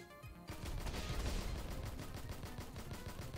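Rapid gunfire from the cute cat-themed co-op shooter 9Cat Saga, a dense stream of game shots starting after a brief lead-in and holding loud and steady for several seconds.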